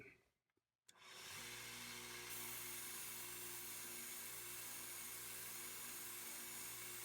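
A 1x30 belt sander running a 220 grit belt starts up after a brief quiet moment and settles into a steady, loud motor whine with belt hiss as it sands a steel hammerhead during a tool restoration, with no talk.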